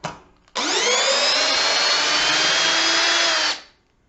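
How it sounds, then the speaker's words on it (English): A refurbished Ridgid cordless drill runs for about three seconds, driving out a screw with a steady, loud whirring whine that rises slightly as it spins up, then winds down; a short click precedes it. "Let's see if the Ridgid can take it out."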